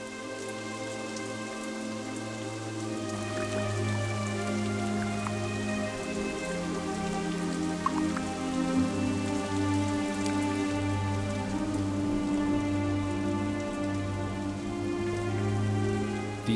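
Heavy rain pours steadily across a rainforest canopy, a dense, continuous wash of drops on leaves and surfaces with a low, even roar throughout and no voices.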